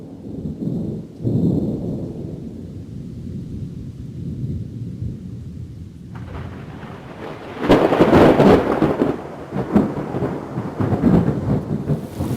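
Thunder rumbles low and long before heavy rain bursts in, a loud broadband downpour with rolling thunder swells over the latter half, no voices heard, in an animated Urdu children's rhyme about rain.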